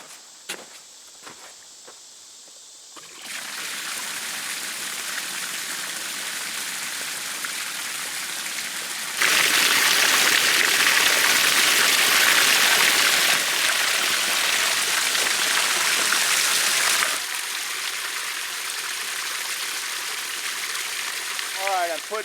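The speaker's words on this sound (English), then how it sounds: "I'm putting my last little bit of water in here." Water pours from a 100-gallon tank into a buck pond as a steady, loud rushing splash that grows stronger midway and then eases slightly, after a quiet opening with a few knocks.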